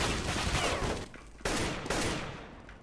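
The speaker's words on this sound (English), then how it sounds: "the AK sound" Rapid automatic AK rifle fire in the video game CS:GO, a dense crackling burst of shots that pauses briefly, then resumes loud and close before trailing off.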